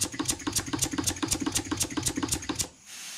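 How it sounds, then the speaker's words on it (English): A small model wobbler steam engine runs slowly at about 200 RPM, giving a steady, even run of crisp ticking chuffs close by before it stops abruptly, leaving quiet. "About 200 RPM is about as low as I can get this one to run."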